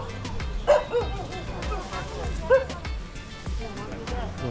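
A dog yips and barks a few times at Swayambhunath Stupa, the Monkey Temple in Kathmandu, close by amid a murmur of people and footsteps on a busy outdoor stairway.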